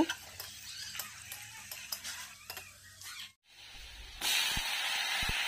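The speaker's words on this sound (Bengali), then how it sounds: "এখন ওই তেলেই রসুন সম্বার দিয়ে রসুনটা যখন লাল হয়ে আসবে আমি সবজিগুলো দিয়ে দেব।" Garlic dropped into hot frying oil left over from frying fish, cooking until it turns reddish; a few utensil clicks and taps come first, then after a short pause a loud, steady, close sizzle takes over.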